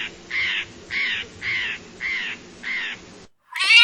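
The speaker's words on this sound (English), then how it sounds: "bird" A crow caws six times in a slow, even rhythm. The harsh calls are loud and close with no other sound around them, and a short, different cry follows right at the end.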